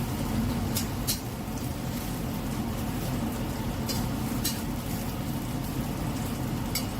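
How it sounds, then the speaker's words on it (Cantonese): Garlic and ginger slices stir-fried in oil over high heat in a wok, turned with a wok spatula: a steady, dense sizzle throughout with a few sharp metallic scrapes and clinks scattered across it. "用鑊鏟將佢爆香。"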